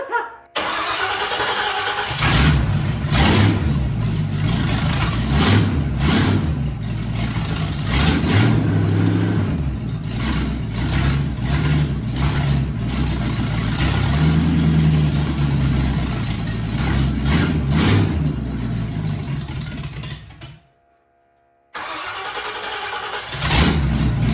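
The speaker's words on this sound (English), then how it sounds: "We definitely turned the idle down too much." A Ford 351 V8 swapped into a Toyota AE86 idles loud and close with a rough, lumpy, uneven rhythm, turned down too low, the steady rumble briefly cutting out before picking up again.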